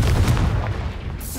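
Expulso spell explosion in Hogwarts Legacy, a heavy low boom that hits at once and rumbles on with crackling debris across its short length, loud and close with no voices.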